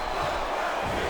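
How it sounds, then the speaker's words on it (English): A wrestling arena crowd in WWE SmackDown vs Raw 2008 roars in a dense, steady wash of cheering, loud and continuous. "crowd is coming alive"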